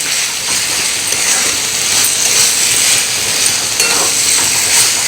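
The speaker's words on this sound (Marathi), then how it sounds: "आलं लसणाची पेस्ट थोडीशी या कांद्यामध्ये मिक्स करून परतून घेऊया" Onions stir-fried with ginger-garlic paste for egg biryani give a loud, continuous sizzle close by, with rhythmic scraping of a spatula against the pan.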